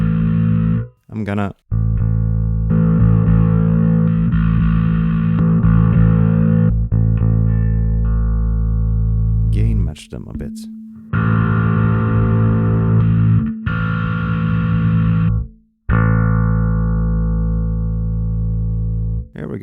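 Bass guitar played through a Darkglass Microtubes Infinity pedal, cycling through three dialed-in distorted tones in sustained notes and short phrases with brief gaps between them; someone speaks briefly over the playing.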